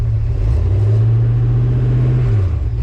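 A 1946 Chevy pickup fitted with a 350 small-block V8 idles steadily and loudly up close, a deep continuous rumble with an even low throb throughout, dipping slightly at the end.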